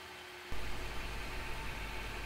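A V8 car engine starts running after a short quiet moment, settling into a steady, close, even rumble that continues alone without speech.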